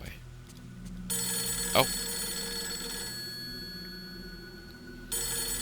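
A telephone rings in the video game Fatal Frame III, a bright electronic ring holding steadily for several seconds against a quiet ambient background, with a brief spoken exclamation early on.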